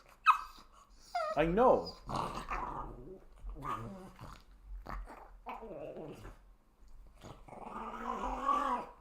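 A dog growls and whines in bursts across several seconds, close and fairly loud, with a person talking to it in between.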